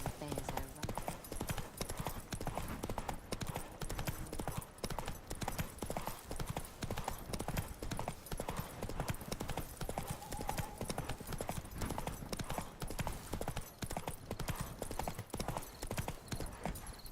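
The horse Roach gallops in The Witcher 3, with rapid, dense hoofbeats pounding continuously throughout, a busy rumbling rhythm. A voice talks over it.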